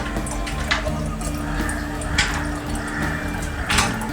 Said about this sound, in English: To this we're going to add half a cup of water.